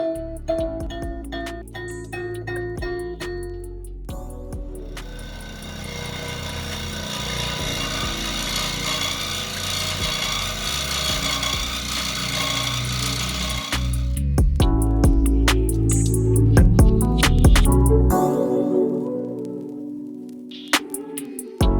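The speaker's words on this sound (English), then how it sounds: "A scroll saw is very useful for when you just want to cut a shape within a piece of wood" A scroll saw buzzes steadily as it cuts a shape in wood, a rapid mechanical chatter that deepens and grows louder partway through before stopping.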